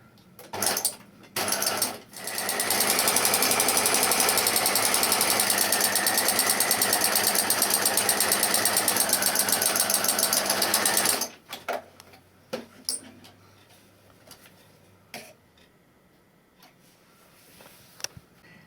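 A domestic sewing machine stitches a seam in dressmaking fabric, running in one long steady burst of fast rhythmic clatter after a couple of short starts, then stopping and leaving quiet handling clicks.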